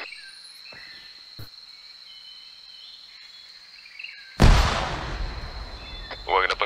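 A frag grenade explodes during an airsoft field training exercise: a sudden loud blast with a long rumbling decay, after quiet outdoor ambience with insects chirping.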